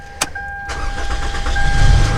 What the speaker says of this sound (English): so I turn on the car